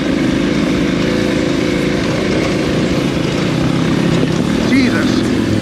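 A KTM 990 motorcycle engine droning steadily and loudly while being ridden, with constant wind buffeting over it and a brief rising pitch near the end.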